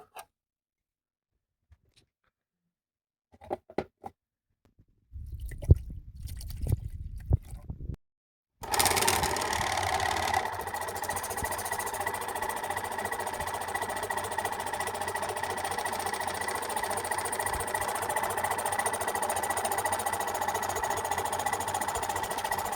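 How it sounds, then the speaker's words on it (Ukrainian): Waterpik water flosser running after a pump replacement: a few brief clicks and a short burst of motor noise, then a steady, continuous mechanical buzz and water hiss that holds for over ten seconds, close and alone. "Робота іригатора знову відновлена."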